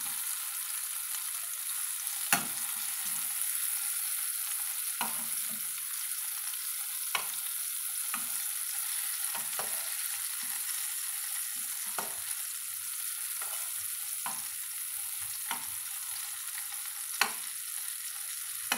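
Bitter gourd pieces fry in oil for a tamarind curry, with a faint, steady sizzle broken by regular sharp clicks of a utensil stirring against the pan, and no talking.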